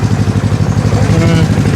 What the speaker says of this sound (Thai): นั่งรถไถนั่งรถไถ